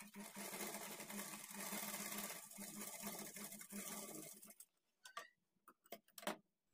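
A sewing machine stitches a blouse with a rapid, even needle rattle up close, then stops, leaving a few scattered clicks and handling taps.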